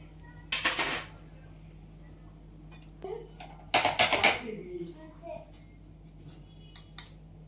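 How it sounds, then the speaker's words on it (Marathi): Potato cutlet mixture being turned over in a pan on a low flame, with two loud bursts of metal spoon scraping and clattering against the pan and lighter scrapes in between, heard close up. "बारीक गॅसवर हळू असं परतूया आपण."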